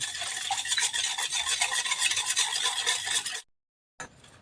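Sugar is stirred briskly into a lemon soda mixture for dhokla batter, a close, rapid rhythmic scraping and clinking of spoon against the container that stops abruptly, followed by a brief quiet stretch.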